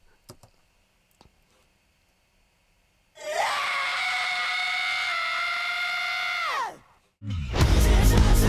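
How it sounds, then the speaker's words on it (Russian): A vocalist in a band lets out one long, sustained, strained scream lasting several seconds on an isolated vocal track during the breakdown of a song. The full band then crashes in loudly. "Просто крик."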